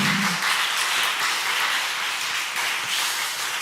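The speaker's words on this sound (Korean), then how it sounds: "우리 축복의 박수 한번 해주시기 바랍니다." A congregation claps in a Korean church service, a short steady patter of many hands at moderate volume filling the whole moment, with no speech over it.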